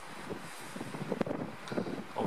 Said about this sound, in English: it's a bit too windy here for the stove